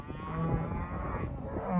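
Cattle low and moo steadily at close range during livestock handling on a farm, a continuous deep bellowing call that swells toward the end, with no talking.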